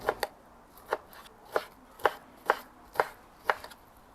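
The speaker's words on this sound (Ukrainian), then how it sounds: "Тепер нарізаю копчене." Knife blade chopping smoked pork fat on a cutting board in steady chops, about seven sharp, evenly spaced knocks, close and clear with no talking.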